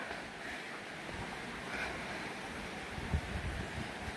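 Steady rushing water flows continuously along a large creek at Somuncu Baba, Darende, a broad even wash of sound with a faint bump near the end and no voices.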